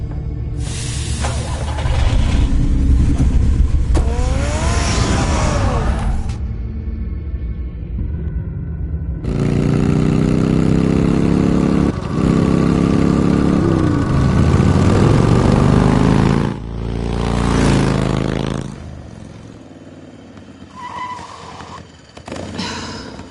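The car engine in Batman: The Telltale Series runs loud and close with a steady rumbling drone, swelling and cutting off in several long stretches with brief gaps between.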